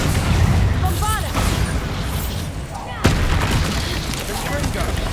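A Bombarda explosion spell goes off in Hogwarts Legacy amid dense, noisy combat, with a sharp blast near the three-second mark over constant rumbling effects.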